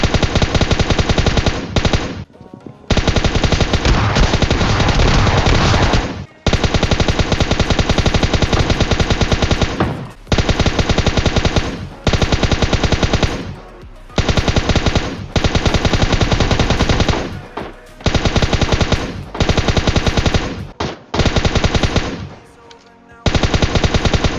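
Gunfire in the video game PUBG Mobile: long, loud bursts of rapid automatic fire, broken by short pauses, continuing steadily throughout.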